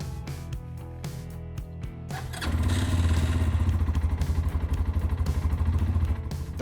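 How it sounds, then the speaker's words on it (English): A few clicks and clunks, then a cheap Chinese 390cc liquid-cooled 4x4 ATV engine fires up and settles into a loud, rapid, pulsing idle close by. "It's time to start it up."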